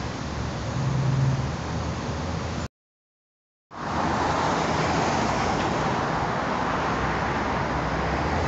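Steady traffic rumbles and hisses around a paid parking lot beneath a highway overpass on Novoryazanskoye Highway in Moscow's Zhulebino district, a continuous roadway wash broken by one abrupt second of silence.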